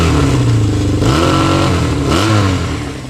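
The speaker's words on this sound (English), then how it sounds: "Listen to the exhaust note with this thing." Stock-piped Honda SL175 twin-cylinder enduro motorcycle revving close by, a loud, raspy exhaust that rises and falls through two throttle blips before settling back toward idle.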